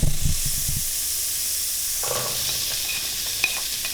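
Chopped onion hits melted butter in a wok and is stirred, a few close scrapes and clatters at first, then a steady soft sizzle with faint ticks.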